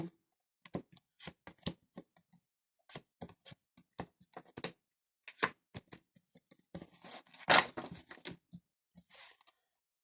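Tarot cards are handled and laid down on a table in a quiet room: a series of soft, sharp paper taps, slides and flicks, irregularly spaced, one louder snap near the end, no voices.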